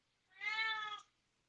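A house cat gives a single clear, drawn-out meow lasting about half a second, close and distinct against near silence.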